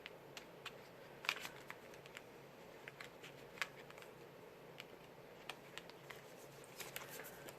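A deck of cards rustles and snaps softly, up close in a quiet room, in a string of irregular crisp flicks and clicks. No voices.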